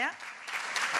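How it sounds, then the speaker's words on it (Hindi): Audience applause at a Hindi poetry evening, a burst of clapping filling the room right after a poet is introduced, steady and fairly close, with a voice briefly audible at the start. "तो एक बार जोरदार तालियां"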